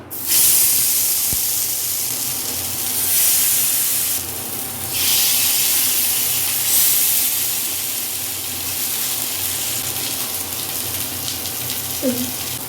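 Curry leaves and fish frying in hot oil, a steady loud hiss and spatter that surges and eases across the whole stretch, with no voices over it.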